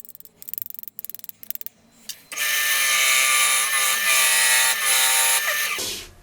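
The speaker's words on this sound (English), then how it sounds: "I'm going to try doing this with a parting tool." A parting tool cuts into wood on a lathe, giving a loud, steady, harsh high-pitched scraping whine for several seconds after a few short taps and clicks, then stopping abruptly.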